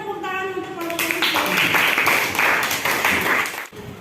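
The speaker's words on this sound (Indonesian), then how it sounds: "beri tepuk tangan untuk kelompok ini" Applause for a group of students in a math classroom: sustained clapping from many hands, close and steady for a few seconds, with children's voices mixed in before it fades out.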